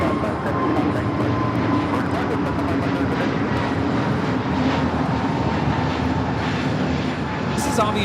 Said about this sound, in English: This is Avianca 557 taking off to Guatemala City on the A320neo.